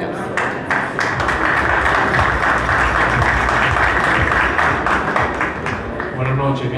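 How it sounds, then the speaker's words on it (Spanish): Audience applause at the opening of a new Ford dealership in Quito, Ecuador: a dense, sustained round of clapping from a crowd that holds steady for several seconds, with voices mixed in. "Seguimos con un fuerte aplauso."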